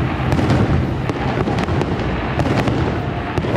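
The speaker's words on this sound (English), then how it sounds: "Fireworks are about to start." Fireworks bursting over Disneyland, watched from outside the park, a dense run of loud booms and crackling pops following one another without pause.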